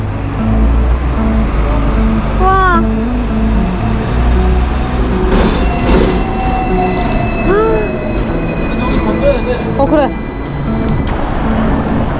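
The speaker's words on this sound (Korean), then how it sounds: "뒤에 트램 온다" A Hong Kong tram rumbles loudly nearby with squealing wheels and screeching rails, while people talk over the traffic noise.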